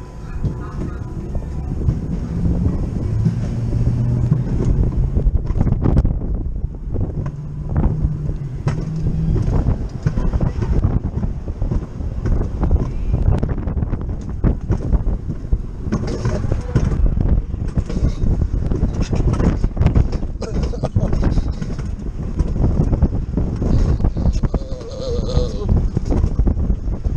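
Wind roars steadily past the microphone on a downhill run of the Rocky Top Mountain Coaster in Pigeon Forge, Tennessee, with a loud continuous rumble of track and rushing air. Voices and an announcement are faintly heard beneath it.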